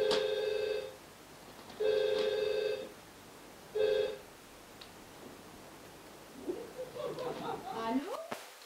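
An old-style telephone bell rings three times in evenly spaced bursts, loud and close, then falls silent before a person starts talking.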